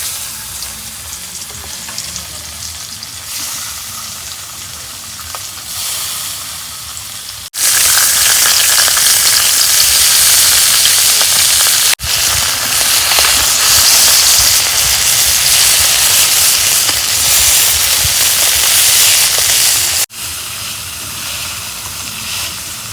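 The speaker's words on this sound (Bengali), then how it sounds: "এখন তেল গরম হচ্ছে, মাছ ভাজে নেব।" Rohu fish frying in hot oil, a loud, steady sizzle and crackle that swells sharply partway through and holds at a hissing roar, with short breaks between stretches.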